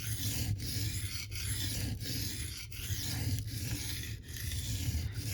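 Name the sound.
knife sharpening on 400 grit diamond plate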